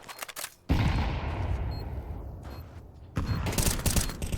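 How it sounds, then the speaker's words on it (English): A grenade in a first-person video game going off as a loud, sustained blast after some light clicks, followed by a second burst of rumbling explosive noise. "Throwing a grenade."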